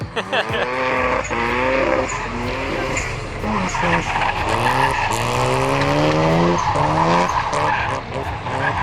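An RX-7 engine revs hard while tires squeal in long skids on a drift track, loud and close, the pitch sweeping up and down.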